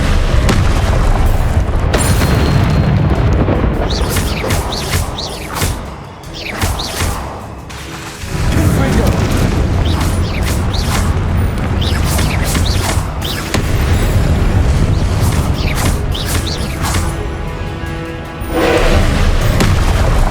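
Repeated explosive blasts of the Confringo spell in Hogwarts Legacy, loud booming bursts with whooshes, coming in quick succession over a dense, continuous game soundscape, with a brief lull midway before the blasts resume.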